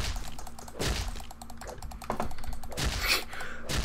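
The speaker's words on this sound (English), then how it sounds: "All this recording will be able to hear is us manically clicking." Rapid, frantic clicking of a computer keyboard and mouse during a session of the survival game Rust, a dense clatter of close, loud keystrokes with bursts of faster hits.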